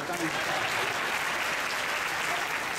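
Steady, dense audience applause fills a Sai Convention hall in Malaysia after a bhajan-focused Q&A, a continuous wash of many hands clapping at even loudness throughout.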